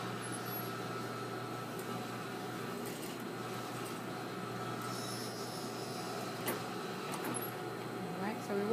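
A sewing machine stitches a zipper with a steady, quiet mechanical whir and faint rhythmic ticking that runs throughout, while a person speaks over it.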